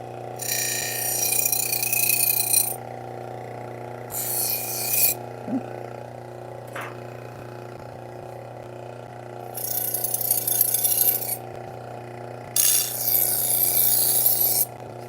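Scallops of a serrated kitchen knife sharpened at an angle: several loud rasping strokes in separate bursts, with quiet pauses between them over a constant low hum.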